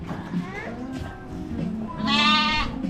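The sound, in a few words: sheep bleating at a cafe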